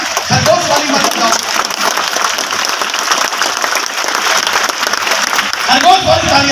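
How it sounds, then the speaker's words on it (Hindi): A large seminar audience in Hazaribagh breaks into loud, dense, sustained applause that fills the room throughout, with a voice briefly heard near the start and end. "ये तालियां खरगोश वाली मत बताओ"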